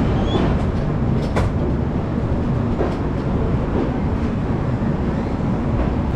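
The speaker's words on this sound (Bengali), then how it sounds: "ট্রেন ছেড়ে দিয়েছে কামাখ্যা স্টেশনের 3 নম্বর প্ল্যাটফর্ম থেকে" The 19616 Kavi Guru Express rumbles steadily after pulling out of platform 3 at Kamakhya station, heard from inside a coach as a loud, continuous roar with faint rhythmic clatter.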